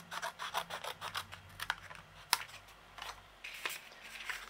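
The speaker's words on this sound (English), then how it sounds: "So this I'm just going to cut out by hand." Paper card being cut out by hand with scissors while crafting a Moon Baby baby card, heard as a steady series of close, quiet rasping snips with a couple of sharper clicks in between.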